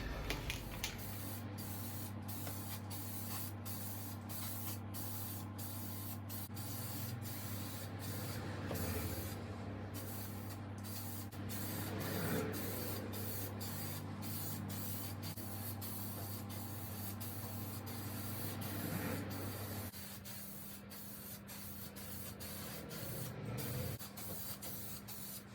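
Spray painting a tool roller cabinet indoors in a garage, a long continuous hiss of the spray gun broken by brief pauses, with a steady low hum underneath throughout.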